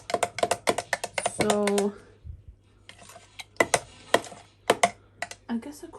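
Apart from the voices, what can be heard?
mixing yogurt by hand for mango lassi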